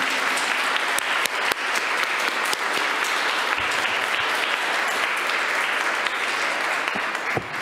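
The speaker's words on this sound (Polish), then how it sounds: "Duże brawa dla chóru." Sustained, dense applause for a choir at a dentistry diploma graduation ceremony in a university senate hall, a large crowd clapping evenly throughout with a few louder individual claps.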